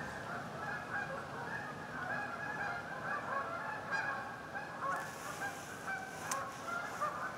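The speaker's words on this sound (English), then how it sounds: "Out at Fisher Meadows with the Canadian geese." Canada geese honk repeatedly in the distance at a meadow, a steady chorus of calls over constant outdoor background noise.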